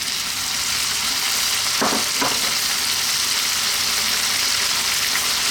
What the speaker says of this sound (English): I'm going to drop that 1 can of tomatoes in